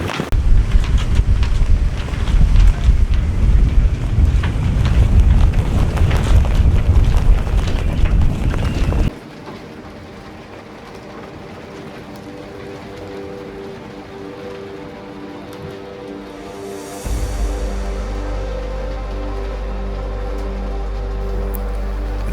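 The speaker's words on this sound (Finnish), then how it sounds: "ei Hilmaa paljoa myöskään hetkauttanut sade ja tuuli." Rain and gusty wind outdoors on a boat, first a dense, loud wash of rain and wind noise that drops abruptly to a quieter steady hiss, then a low rumbling gust swells in and holds near the end.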